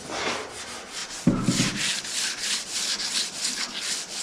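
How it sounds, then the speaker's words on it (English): Steady scraping and rubbing, a rhythmic back-and-forth abrasive stroke repeating close by as car paint is wet sanded by hand, with a brief thump partway through. "when you're wet sanding like this"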